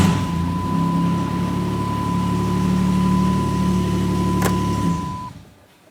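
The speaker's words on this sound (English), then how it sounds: "You're going to start the vehicle, let it run for at least 10 seconds." A 2008-2016 Chrysler Town & Country 3.8L V6 idles steadily at close range, a smooth, even low hum with a faint high whine, ending with a brief click before the engine shuts off and the sound fades to near silence.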